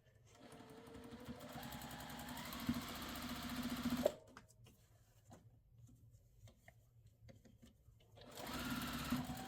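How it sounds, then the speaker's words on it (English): A sewing machine stitches quilt block seams, running in a steady close whir for about four seconds, pausing to near quiet, then starting up again near the end. "I'm going to sew those last 2 seams, just like we did our rows"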